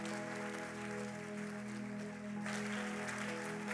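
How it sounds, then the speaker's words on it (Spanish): A church congregation claps through a Sunday service, a diffuse, continuous wash of applause layered over a sustained organ or keyboard chord that keeps droning underneath, with the texture brightening slightly partway through. "Alguien puede darle un fuerte aplauso a Dios."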